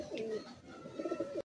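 Giribaz and local pigeons at a sale in Bagnan, Howrah coo softly in a low, throaty rolling call, a brief, faint, close phrase with no talk.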